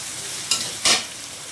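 Garlic frying in oil in a pan while being stirred, with a steady close sizzle and two short louder scraping bursts of the spoon.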